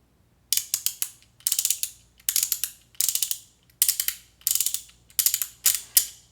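Fidget toy ratchet mechanism with ball-and-spring detents on each side, clicking in seven quick bursts of rapid, crisp ratcheting clicks separated by short pauses, close and clear with no talking.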